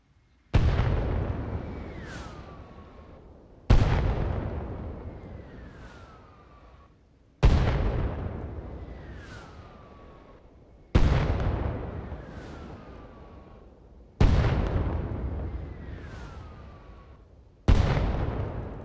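Six evenly spaced heavy booms of mortar fire and shell explosions in the video game Arma Reforger, each loud blast trailing into a long fading rumble with a faint descending whistle, roughly every three seconds.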